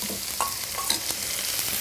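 Unsalted butter is whisked into a warm sauce in a pan, a continuous bright sizzle with light clicks of a whisk and no talking.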